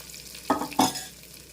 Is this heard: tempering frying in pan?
yes